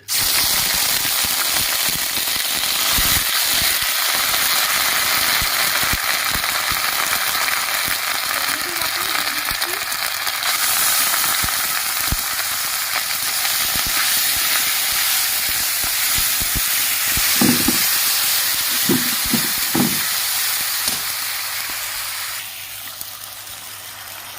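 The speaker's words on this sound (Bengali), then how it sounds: "গোটা জিরে ফোড়ন দিয়ে দিচ্ছি আদা বাটা দিয়ে দিচ্ছি" Whole cumin seeds and ginger paste hit hot oil, giving a loud, steady hiss and sizzle throughout, with scattered crackles and clicks of utensils toward the end as the sizzling eases slightly.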